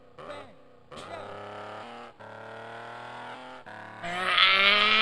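A Bugatti engine from the arcade racing game 1000 Miles Rally drones with harsh, buzzy tones that hold steady and then climb in pitch as it revs higher near the end, with no talk over it.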